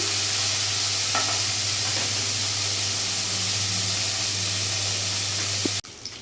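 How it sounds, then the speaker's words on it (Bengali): Steady, dense sizzle of fish frying in hot oil, close and continuous with no voices, ending in a sudden cutoff. "মাছটাও আমি এখানে ভাজা চাপিয়ে দিয়েছি"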